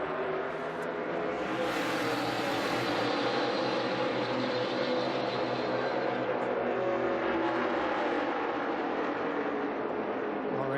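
NASCAR race cars at the 2017 Kobalt 400 roar together as the pack accelerates through a restart, a dense, continuous loud engine drone that holds steady throughout with a broadcast commentator speaking over it.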